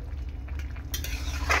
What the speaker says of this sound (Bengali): এবার একটু খুন্তি দিয়ে নাড়াচাড়া করে দিই